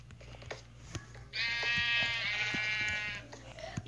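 A single drawn-out sheep bleat from the video game Minecraft sounds clearly for about two seconds over faint background clicks, with no talking alongside it.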